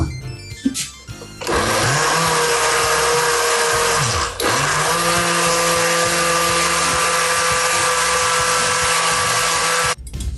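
A kitchen blender starts with a brief stutter, then whirs loudly and steadily, dips once for a moment, and runs on before cutting off abruptly.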